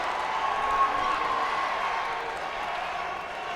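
A hometown crowd at a Pinnacle Combat mixed martial arts event roars steadily throughout, a dense, continuous wash of cheering and applause with no pauses.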